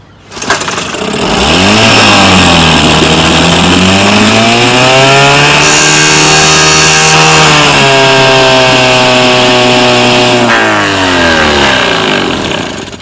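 A 1967 Evinrude 3 horsepower outboard motor, model 3706, running unchoked after a dirty-carburetor fix, its loud buzzing two-stroke drone steady and close throughout, the pitch rising and dipping slightly as it holds speed.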